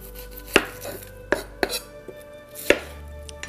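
A knife slices a red onion on a board in about five sharp, irregularly spaced cuts, crisp and close, with no talking.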